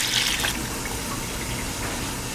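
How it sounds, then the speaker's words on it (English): Water splashes and trickles into a pot of baby lima beans cooking with sausage, a hissing pour that is strongest at first and then settles into a softer steady flow. "So I'm just adding water."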